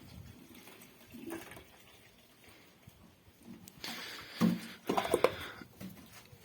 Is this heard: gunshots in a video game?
no